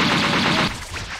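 A minigun fires in a video game, a dense continuous roar of rapid shots lasting most of a second before cutting off abruptly, loud and close with no talk.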